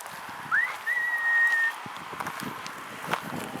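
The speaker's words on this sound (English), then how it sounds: "She recognizes my call and whistle" A person whistles to call a dog outdoors at an animal shelter rescue: a short rising whistle followed by a long steady one, clear and close, over faint footsteps and ambient noise.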